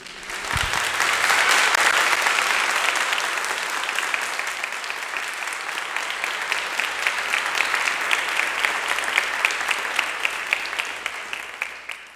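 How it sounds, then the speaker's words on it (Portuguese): A church congregation of young people claps together for Jesus, dense sustained applause that swells in the first seconds and carries on steadily, with sharper individual claps standing out toward the end. "Vamos uma salva de palmas para Jesus?"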